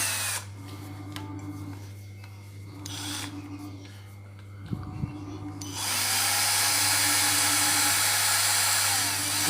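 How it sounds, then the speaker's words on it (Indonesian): An electric drill used for notching a piston hums under a low steady drone, then surges into a loud, continuous high-pitched whine that holds to the end. "kemudian kita nyalakan bornya"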